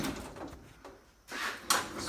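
A metal micrometer drawer in a metalworking shop slides open and then shuts, with a soft rolling rumble followed by a sharper clack near the end.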